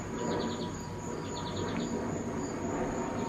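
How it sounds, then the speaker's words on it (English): A small bird sings faint, quick high chirps in short bursts over a dense bed of crickets and outdoor noise. "Hear that little bird?"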